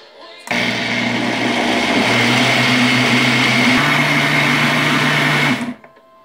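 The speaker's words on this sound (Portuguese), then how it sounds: "Agora nós vamos bater por um minutinho, tá? De novo no liquidificador." A blender runs steadily for about five seconds mixing pão de queijo cake batter, a loud close whirring motor hum with a slight pitch shift partway, starting and stopping abruptly.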